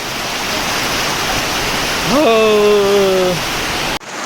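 Heavy monsoon rain pours down on a Konkan village as a steady, dense roar, with a short voice calling out near the middle before the sound cuts off abruptly near the end.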